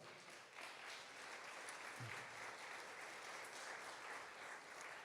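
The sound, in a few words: church congregation applause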